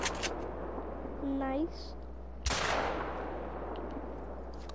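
A single loud gunshot rings out while hunting in a video game with a Labrador retriever. A sharp crack is followed by a fading tail over steady game ambience, with a brief spoken word earlier.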